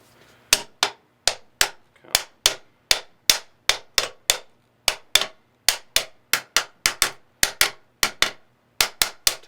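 A spa pump stator is tapped into place with a long run of sharp, evenly repeated knocks, about two to three per second, close by and crisp with silence between strikes.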